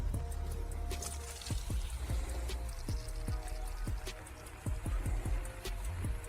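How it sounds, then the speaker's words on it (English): Water dripping from a drip irrigation hose laid among plants on a raised garden bed on a slope, a scattered series of small plinks and trickles over a soft running-water wash, close and with no speech. "I have secured the drip hose near the plants so that the water in can drip out in close proximity."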